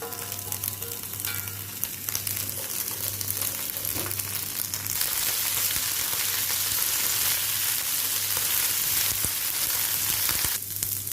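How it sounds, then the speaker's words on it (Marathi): Cashews frying in melted ghee in a pan give a steady, close sizzle that grows fuller and brighter midway, with occasional soft stirring scrapes and no voices. "आपण हे काजू ह्याच्यामध्ये तुपामध्ये जरा गरम करून घेऊया"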